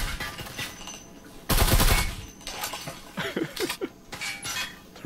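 Bursts of rapid gunfire trade back and forth in the VR shooter Breachers, with one loud close volley followed by scattered, quieter shots and short bursts at a distance, and faint voices between them.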